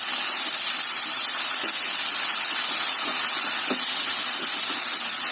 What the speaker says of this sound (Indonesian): Direbus sampai asap. cukup sedikit air.